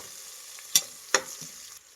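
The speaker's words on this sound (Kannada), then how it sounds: "ನೋಡಿ, ಸಾಕು ಇಷ್ಟು ಫ್ರೈ ಆದರೆ ಈರುಳ್ಳಿ." Chopped onions frying in a pan while cooking methi pulao: a faint, steady sizzle broken by two sharp scraping clicks of stirring, with no talking.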